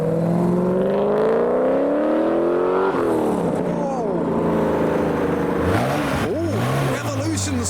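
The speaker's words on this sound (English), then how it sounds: "Oh, revolutions from the Jaguar C-Type." A Jaguar C-Type revs hard at a car show, its engine note climbing and falling in loud sweeps as it pulls away, with other car engines and crowd noise mixed in.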